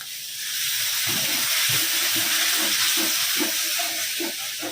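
Water poured into a hot spice mix frying in oil for mushroom curry, a loud broad steamy hiss and sizzle swelling up and holding steady, with faint bubbling underneath.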